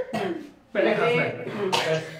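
A child coughs in short, harsh bursts at close range, three rough hacking fits separated by brief pauses, indoors during a livestream.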